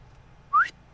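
A single short rising whistle from the player calling to the dog companion in Fallout 4, bright and close, standing out for a moment over a faint low background hum.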